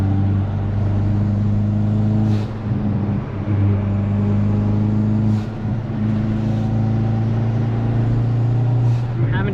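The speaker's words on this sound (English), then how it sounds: "Intake noises and everything." A loud, droning engine and intake roar from a 2020 Hyundai Veloster N with manual transmission fills the cabin, holding a steady pitch with brief dips, while a voice talks over it.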